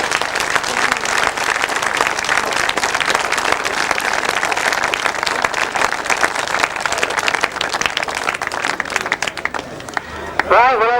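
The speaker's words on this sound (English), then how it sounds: "if I could ask you for a very big round of applause for the North Berks presentation this afternoon" Crowd at a grasstrack racing awards presentation gives a big round of applause, dense continuous clapping throughout, loud and close, fading slightly at the end as a voice begins.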